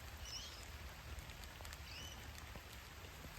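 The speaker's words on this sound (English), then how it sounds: "so the rain is coming down, so I don't want to stay in it." Steady rain falls on a farm in Australia, a dense even patter of drops on surfaces throughout, with faint bird calls in the background and no talking.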